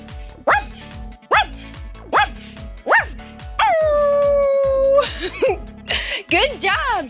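People imitating a dog, giving a series of short voiced barks followed by a long sustained howl and more yips, loud and close with a voice joining in.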